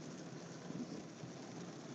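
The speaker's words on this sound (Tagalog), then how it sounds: "Ayan, malakas po ang ulan." Heavy rain falls in a continuous, even hiss and patter, steady and enveloping but fairly quiet overall, with no voices.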